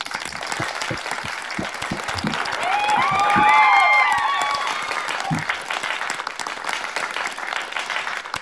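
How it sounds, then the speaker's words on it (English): An audience at a robotics workshop panel applauds the speakers with sustained, dense clapping that swells in the middle and then tapers, while a voice and a few bird-like chirps sound briefly over it. "we can give a round of applause to all the speakers in this panel session"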